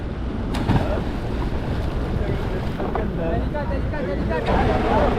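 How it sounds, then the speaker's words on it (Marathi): A fishing boat out at sea off Mumbai reaching its fishing spot as the anchor goes down, with steady engine and wind noise, waves washing against the hull, and occasional knocks throughout. "आता मासेमारीच्या ठिकाणी आपली बोट पोहोचली आहे आणि नांगर टाकून आम्ही दारी उचलणार आहोत"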